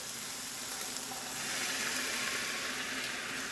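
Sauce poured into a hot pan of cooking fillets with ginger sets off a steady, close sizzle, an even hissing fry that swells slightly midway and carries on alone.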